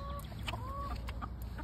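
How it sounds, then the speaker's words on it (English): Laying hens in a backyard flock cluck steadily and nearby, with short rising calls and scattered squawks over a constant low background hum, no talking. "I have chickens."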